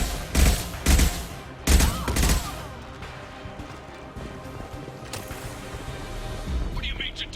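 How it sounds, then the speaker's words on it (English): High-impact gunshots in Mass Effect 2, a rapid cluster of heavy blasts in the first seconds followed by rumbling explosions and debris, with voices speaking over the later combat noise. "Firing a high-impact shot."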